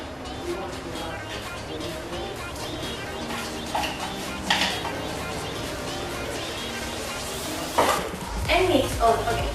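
Rice being stirred into a mixture in a pan, with clinks and scrapes of utensils against cookware and a faint sizzle, rattling louder near the end, under a speaking voice.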